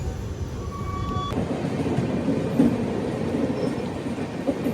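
A long-distance train runs toward Mangalore Junction station with a steady, close rolling rumble and faint rhythmic wheel noise, with one brief thud partway through and no voices.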